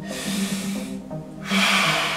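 A forceful breath out during a stretch hanging from a pull-up bar, heard as a close, breathy rush of air, with a short pause and then a stronger exhale.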